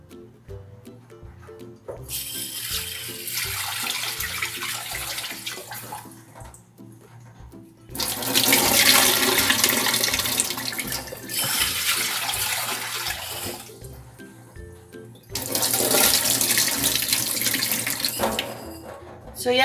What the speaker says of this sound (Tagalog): Ito na yung ating munggo or mung bean. So, hugasan muna natin.